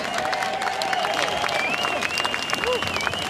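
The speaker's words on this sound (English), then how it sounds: "Give Jackie Dundee a big round of applause, guys." Applause from the crowd at an outdoor rally at Parliament House in Melbourne, steady scattered clapping held throughout, with whistling tones and faint voices over it.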